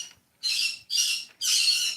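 Pet conures squawk in three loud, harsh bursts, each lasting about a third to half a second and separated by short silences, close to the listener with no other sounds.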